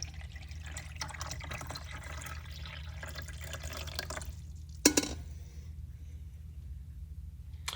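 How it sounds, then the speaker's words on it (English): Fresh water pours steadily into a container, a continuous splashing flow with one sharp click partway through before the stream quiets. "he putting the fresh water in there now"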